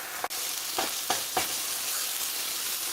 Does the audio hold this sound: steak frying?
yes